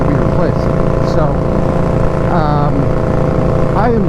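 Motorcycle fitted with a Hacker Mayhem exhaust running nearby, a loud, steady low rumble with a few short revs rising and falling in pitch.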